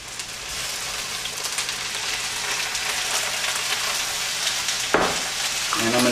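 Carrots and broccoli stir-fry in a hot pan with a loud, steady, dense sizzle like heavy rain, swelling with a bump and clatter of stirring near the end, close up and without talk.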